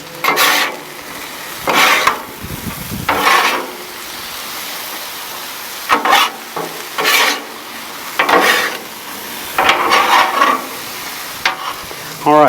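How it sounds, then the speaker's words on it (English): Peppers and onions tossed on a hot Char-Griller Gravity 980 griddle, loud sizzling with repeated bursts of scraping and stirring spaced a second or two apart, no talk. "Now we'll go ahead and add our peppers and onions. Give it a good toss."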